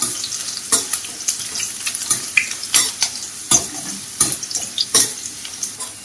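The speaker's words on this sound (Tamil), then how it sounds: "கொஞ்சம் பூண்டு சேர்த்துப்போம். வதக்கிக்கலாம்." Garlic sautéing and being stirred in a pan for a Chettinad pepper prawn fry, a steady close sizzle broken by repeated sharp scrapes and clinks of a spoon against the pan.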